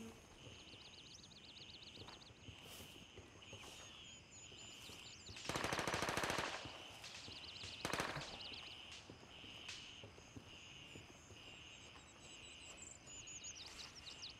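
Gunfire in the video game Gray Zone Warfare: scattered single shots and a dense burst of rapid automatic fire in the middle, followed by another loud shot, over faint bird chirps and quiet ambience.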